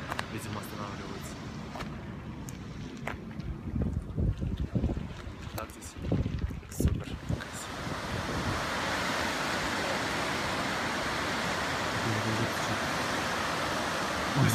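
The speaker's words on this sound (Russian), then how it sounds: "Это чудо водопад, то есть." A waterfall in Yellowstone National Park roars as a steady, loud broadband rush that takes over partway through, after a stretch of wind buffeting and scattered voices nearby.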